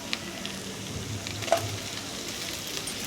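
Onions and tomatoes frying in mustard oil in a pan, cooked for Kashmiri mutton rogan josh: a steady soft sizzle with a few small crackles and pops, close by and fairly quiet.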